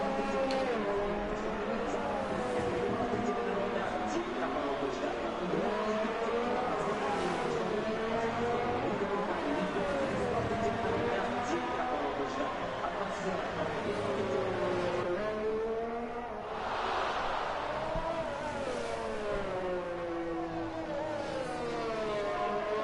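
F1 race cars lap the Russian Grand Prix circuit in the video game F1 2019, their high-pitched engines whining steadily as they rise and fall through gear changes, with a brief dip midway and faint commentary underneath.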